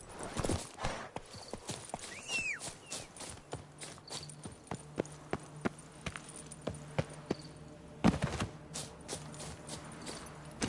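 A horse called Roach walks along with steady clip-clopping hooves, close and distinct, and its sharp strikes land at an even rhythm with a brief whinny early on.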